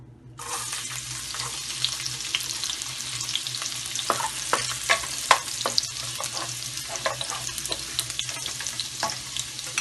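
Steady, loud sizzling of garlic frying in hot oil, with light crackles and occasional stirring clicks, close up and continuous.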